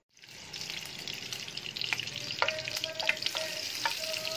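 Ghee heating in a frying pan on a stove gives a steady sizzle that swells after a quiet start, with sharp pops and crackles spiking through it, close and fairly loud with no talking.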